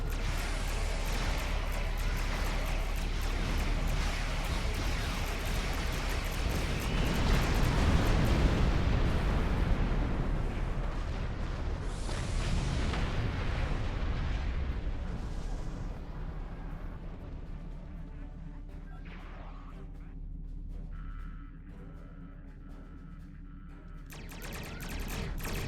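Starship weapons fire and explosions in a space battle against Klingon attack ships in Star Trek Online: a sustained roar of blasts and rumbling detonations that swells, then thins into scattered bursts and a lower rumble.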